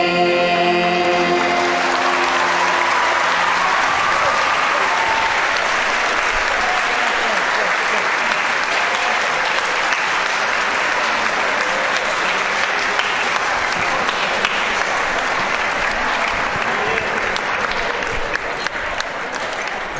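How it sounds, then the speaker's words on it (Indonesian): An audience at a Christian school's open house performance breaks into sustained, dense applause that fills the room and stays loud throughout, with some voices mixed in near the start. "Mari kita berikan tepuk tangan sekali lagi yang meriah untuk kemuliaan nama Tuhan."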